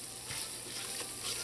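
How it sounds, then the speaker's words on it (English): Seasonings sauté in a pot for a seafood boil, a soft, even sizzle with a few light stirring scrapes, close but fairly quiet and unbroken by speech. "You just want this to saute in here for about 2 minutes."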